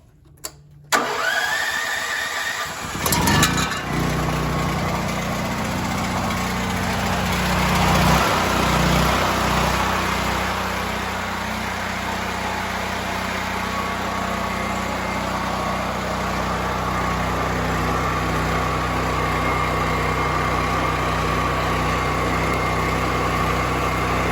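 A Duromax XP 10,000 watt generator cranks with a short rattle, catches and settles into a loud, steady running drone that continues without pause.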